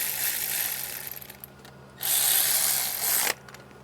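Ratchet snugging the timing chain tensioner bolts on a Mercedes M276 engine during a camshaft and phaser replacement, a close dense clicking run in two bursts with a short pause between.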